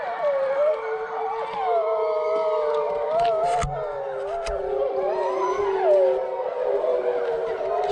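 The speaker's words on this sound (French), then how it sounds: "On a entendu les loups hurler à la mort." Wolves howl at night in a Canadian forest, several long wavering cries overlapping and rising and falling continuously, fairly loud and close, with a brief knock partway through.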